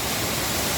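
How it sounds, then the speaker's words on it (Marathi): Nangartas waterfall near Amboli village plunging with great force, a dense unbroken roar of falling water, loud and close for a brief moment. "हा धबधब्याचा तुम्ही बघा प्रवाह किती जोरात आहे"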